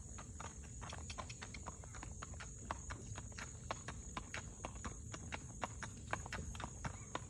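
A 14-year-old Morgan cross gelding walks with a steady clip-clop of hooves, regular crisp strikes close by at a relaxed pace over faint background noise.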